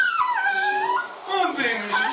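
A small pet dog whimpering and crying in high, wavering whines that rise and fall close by, with someone speaking affectionately over it.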